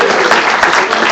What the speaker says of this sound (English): can we have a round of applause for Phil with one release?